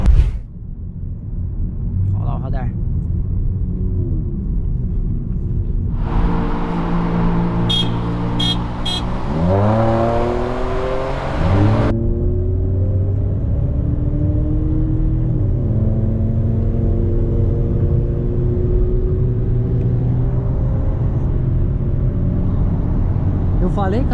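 Chevrolet Onix Turbo and VW Polo TSI Stage 2 in a drag race, engine and road roar climbing through gears with rising harmonic sweeps and a burst of broadband noise mid-run, loud and steady from inside the car with voices talking over it.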